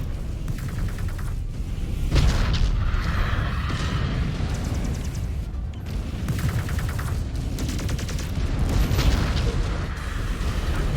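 Missile impacts and explosions in the video game Ghost Bear: Flash Storm, a dense stretch of booming blasts and rattling gunfire-like bursts that stay loud and continuous with no talking.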